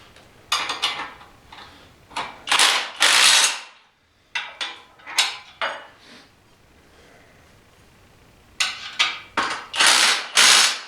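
Bolts being tightened by hand on a Harbor Freight 36-inch box brake: bursts of metallic ratcheting clicks in uneven runs, close and fairly loud, separated by short pauses, with no talking.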